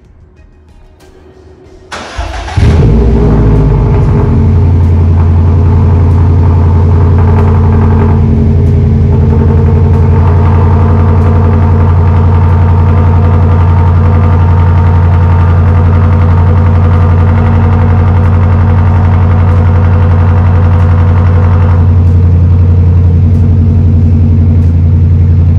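A Subaru STI with its exhaust valve open starts up with a sudden roar, then settles into a loud, steady, deep idle that rumbles on alone for over twenty seconds, recorded close outside the car.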